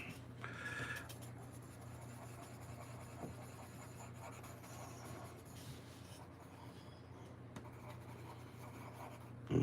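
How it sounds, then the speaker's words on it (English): Sargent watercolor pencils rubbing across paper in quiet, continuous scratchy strokes, with a faint steady background hum and a couple of small knocks. "And this is a Sargent. Not the best watercolor pencils, but they'll do."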